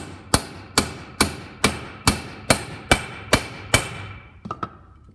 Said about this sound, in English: And then we'll give it some more taps.